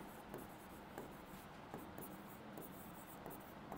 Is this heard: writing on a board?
yes